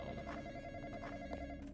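A telephone rings in the Roblox horror game The Graveyard Experience, a quiet electronic bell tone with repeating pulses over a low background hum, with no talking.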